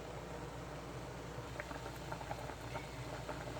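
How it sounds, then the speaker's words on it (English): Water coming to a boil in a cooking pot for sea snails, a faint soft bubbling and light pattering with scattered small pops, steady and quiet with no talk. "we'll wait till this comes to a full boil"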